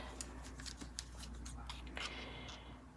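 Scissors cut through a folded paper tag in a few quick, crisp snips, close and quiet, with slight paper rustling between cuts.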